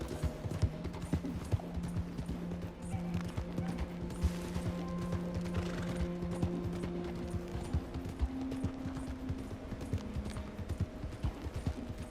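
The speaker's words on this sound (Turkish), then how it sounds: "Atımızın cinsi Türkmen atı arkadaşlar" Hooves of a Turkmen horse clip-clop in a steady, quick rhythm in the Red Dead Redemption 2 video game, fairly quiet, over soft ambient tones and a low musical drone.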